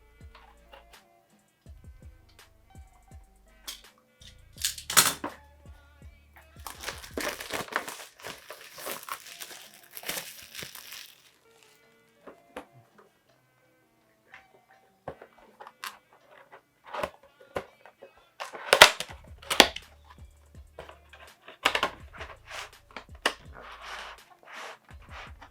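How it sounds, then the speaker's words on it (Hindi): Mivi neckband headphone packaging being opened by hand, with bursts of crinkling, tearing and rustling cardboard and plastic in two busy stretches separated by quieter handling, close and fairly loud. "तो इसकी फटाफट अनबॉक्सिंग शुरू करते हैं।"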